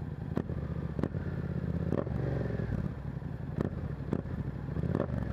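A Yamaha MT07 motorcycle engine running while being ridden, a continuous low rumbling drone with a few knocks and clatters, steady and close throughout.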